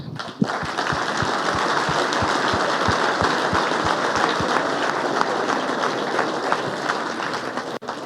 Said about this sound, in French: qu'on les applaudisse.